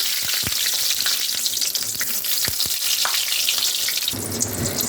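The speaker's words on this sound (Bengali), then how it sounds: "এবার নুন হলুদ মাখানো বেগুনগুলো দিয়ে দেবো" Eggplant pieces coated in salt and turmeric sizzle and crackle steadily in oil, with sharp pops and spatters scattered through, close up, and a brief shift in tone near the end.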